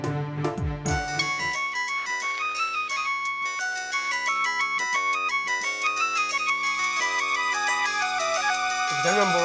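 A mobile phone ringtone plays a bright, melodic electronic tune in a home, steady and fairly loud for several seconds with no talking over it.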